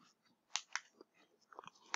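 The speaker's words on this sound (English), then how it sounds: "Right now I'm munching on some wavy potato chips and Pepsi." Someone munching wavy potato chips close up, a few crisp crunches in quick bursts, quiet and alone with no talk.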